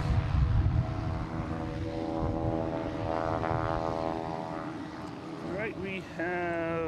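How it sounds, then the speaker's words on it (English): Delta Embraer E175 regional jet arriving at Boston Logan, a steady broad engine roar with a rising whine, while people talk nearby. "Delta coming in from Charleston. E175, flight 5670."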